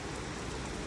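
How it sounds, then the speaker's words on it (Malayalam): Steady rain falling in hot weather, a dense, even patter of drops on surfaces, continuous and close with no pauses. "വാവ്, എന്താ മഴ അല്ലേ"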